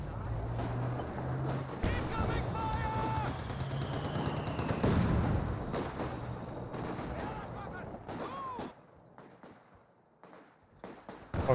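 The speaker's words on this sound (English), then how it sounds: "He's receiving some captured MG42 fire." Captured German MG42 machine gun fire in Company of Heroes 2, heard as rapid bursts and scattered gunshots amid a dense battle mix of explosions and effects, fairly loud and continuous before thinning out near the end.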